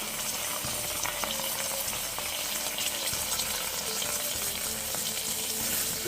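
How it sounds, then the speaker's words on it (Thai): Beef stir-fried in a pan with a little water for Thai panang curry, a steady loud sizzle and bubbling with occasional scrapes of stirring throughout. "ปานางจะรวนเนื้อก่อนรวนเนื้อ"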